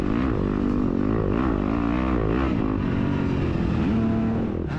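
Dirt bike engine revving hard during an off-road race in swampy terrain, a loud close rising and falling snarl with repeated throttle blips and other bikes droning underneath.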